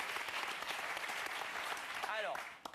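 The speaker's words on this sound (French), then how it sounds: "Applaudissements pour Laurent Deutsch." Quiet applause from a TV talk-show studio audience in France, a steady wash of clapping with a voice briefly rising near the end.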